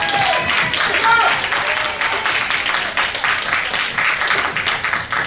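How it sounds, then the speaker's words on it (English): Audience at a disability-rights film panel applauding the film's director as credits roll, a sustained wash of clapping from a sizeable crowd, fairly loud and steady throughout. "let's put together a huge round of applause for Sarah Barton, director of the film"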